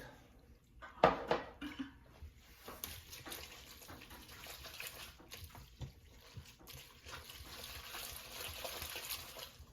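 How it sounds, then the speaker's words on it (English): Pasta water pours and trickles into a pan with a few clinks of cookware early on, then a soft, steady liquid sound continues. "I'm going to add just a touch of the pasta water I saved"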